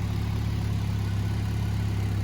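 Hummer H3 fitted with a new exhaust runs at a steady low idle, a deep even hum close by and alone.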